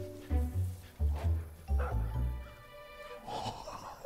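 A dog in the Far Cry 5 video game barks and growls in repeated gruff bursts while attacking, close and loud, with whimpering yips and heavy breathing near the end.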